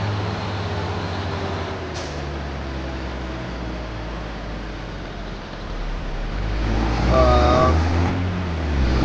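A train passing in the video game Farming Simulator, a steady loud rumbling roar with a swelling mechanical hum and tonal whine as it draws closest near the end.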